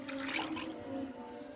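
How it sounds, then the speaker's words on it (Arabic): Orange and tangerine peel juice pouring into a homemade liquid soap mixture, a steady close liquid trickle and splash lasting under two seconds with no talk. "هنزل عليها بالعصير البرتقال والعصير قشر البرتقال واليوسف اللي انا عاملاه"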